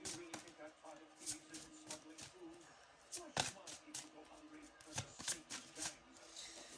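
Playing cards shuffled by hand for a card reading, heard close and quiet as a run of soft riffles and slaps with uneven rhythm and no voice over them.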